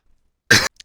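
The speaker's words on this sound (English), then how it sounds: "I tried to pause that before that cough came out." A single short, sharp cough bursts out of silence, close to the microphone, followed by a tiny faint click.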